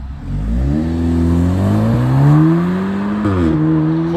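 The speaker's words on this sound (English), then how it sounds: "We're gonna get the launch control." Car engine held at high revs on launch control at a Japanese car meet in Reading, a steady loud drone that climbs gradually, dips briefly, then rises again with no talk.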